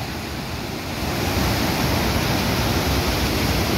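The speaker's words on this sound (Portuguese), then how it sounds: "O nível aumentou tanto que transbordou." River water on the Rio Salgado pours over a dam spillway in a constant, loud, roaring rush close by, steady and unbroken.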